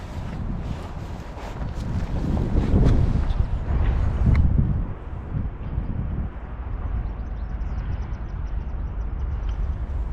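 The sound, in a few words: northeasterly wind on a tidal river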